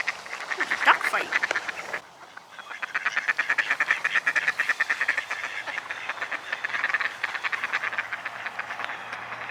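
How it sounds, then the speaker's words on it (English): Ducks quack and squabble in loud, dense, overlapping bursts that run almost continuously, with a brief lull near the start, heard close by with a faint low hum underneath. "Duck fight."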